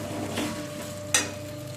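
Jujube pickle with chillies and spices being mixed together in a pan, a steady low sizzle broken by two brief scraping strokes, the second sharper and louder, with no voices.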